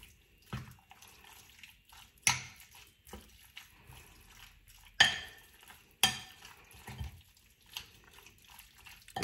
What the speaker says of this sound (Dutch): Even goed mengen.